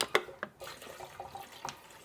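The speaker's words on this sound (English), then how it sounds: "Just a final rinse." Dry beans are given a final rinse with bottled water at a kitchen sink: a few light splashes and drips, then soft trickling and sloshing of water close by.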